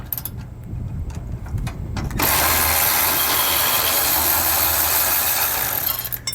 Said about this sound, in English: So we're going to remove the bolt from this end and the other end. We're going to use a 9/16 socket and wrench to do so.